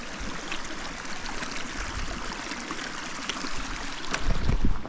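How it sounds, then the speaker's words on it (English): Shallow river being crossed on foot in Welsh hill country, a close, continuous rushing burble of flowing water with splashes growing louder toward the end. "let's cross the river"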